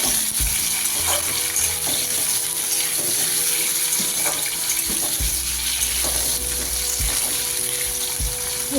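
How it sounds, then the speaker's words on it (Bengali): Cubed potatoes fry with black cumin seeds in a pan, giving a continuous close hiss and sizzle with a few soft stirring knocks, no talk over it. "আলুটা আমি একটু ভেজে নেব।"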